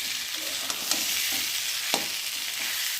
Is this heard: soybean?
yes